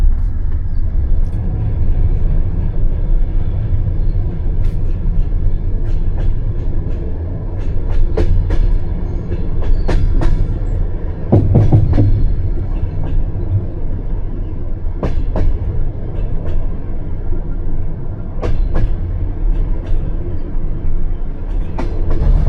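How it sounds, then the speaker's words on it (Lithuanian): A train from Kyiv to Bucharest rolls steadily along the rails in Moldova, arriving at Bălți, with a continuous low rumble and scattered metallic clicks and clacks, loud and close throughout. "Atvažiavo traukinys į miestą Belts."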